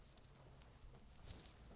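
Rain patters faintly on a parked car, soft scattered taps and drips over a quiet background.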